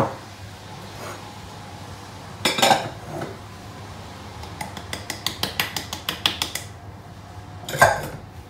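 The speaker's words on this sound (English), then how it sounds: "making sure to use a spatula to cut and fold the mixture" A spatula works macaron mixture in a bowl, scraping and clinking against the sides in bursts, including a quick run of rhythmic taps near the end, close and fairly clear with no talk.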